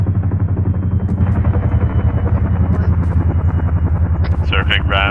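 A Chinook helicopter circles overhead during a training session, its heavy, steady rotor thump and deep engine rumble loud and continuous, with a few faint high chirps near the end.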